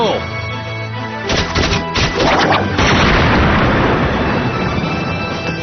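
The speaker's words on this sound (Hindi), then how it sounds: "चलो इस दीवार को तोड़ दो, फायर करो।" A cartoon magical blast smashing through a wall, a loud rumbling crash with crackling bursts followed by a sustained roar of debris, filling the whole clip.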